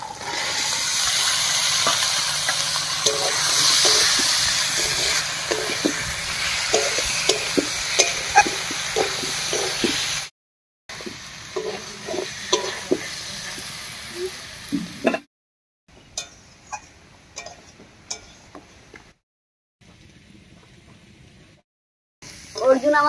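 Boiled potatoes and peas stirred into a fried spice masala in oil, with steady sizzling and repeated scraping strokes, cut by brief silent gaps and fading toward the end.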